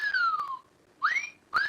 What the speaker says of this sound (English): No, that's a whistle.